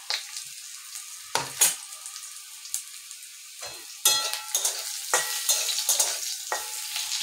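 Small fish chorchori, a Bengali small-fish curry, cooking in a pan with bursts of sizzling and crackling and repeated stirring scrapes that grow busier in the second half, close and without talk.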